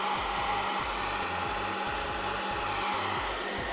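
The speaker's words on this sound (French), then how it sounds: "un petit coup de sèche-cheveux et je vous retrouve pour la suite du tutoriel" A hair dryer blows steadily throughout a makeup session, its loud constant whoosh layered over a low pulsing motor hum, with no talking.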